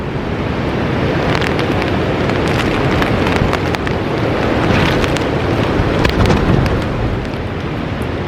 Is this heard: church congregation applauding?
no